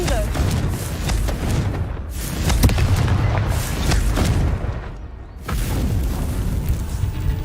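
Confringo fire spell blasts in Hogwarts Legacy, a series of loud, booming explosive bursts close by, with rumbling impacts and brief crackles between them across the stretch.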